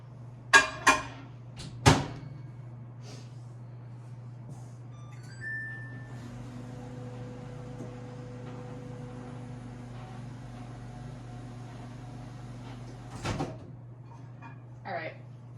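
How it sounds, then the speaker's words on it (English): A microwave oven heating a tortilla for about five seconds: a few door clicks and beeps, then a steady low hum of the running oven, ending with a clunk and a beep. "I like to put it in the microwave for like 5 seconds"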